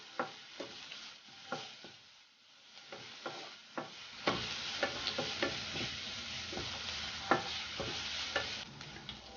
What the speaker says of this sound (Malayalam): ഇനി ഇതിലേക്ക് ആവശ്യത്തിനുള്ള ഉപ്പ് കൂടി ചേർത്ത് കൊടുക്കാം. നന്നായിട്ടൊന്ന് വഴറ്റിയെടുക്കണം